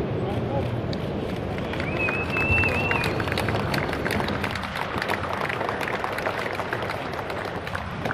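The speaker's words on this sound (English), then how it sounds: "A big applause here for Adriano." An audience at the Rimac C2 press conference in Geneva breaks into sustained applause, a dense, steady wash of clapping that holds at an even level throughout.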